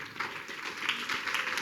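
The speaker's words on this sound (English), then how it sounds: "Once more, big round of applause." An audience at a Gaura Purnima temple festival celebration in Chennai breaks into applause, a steady patter of clapping hands heard at moderate distance throughout.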